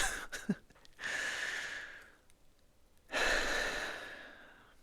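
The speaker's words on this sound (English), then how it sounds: "I'm actually going to take a breath." A single deliberate deep breath: a long audible inhale followed by a slow, breathy exhale, close and quiet, with a short still gap between them and no talking.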